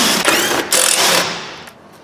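Five Torx T20 screws are undone under the bumper of a Vauxhall Corsa D, giving loud, close bursts of rapid ratcheting clicks that fade away at the end.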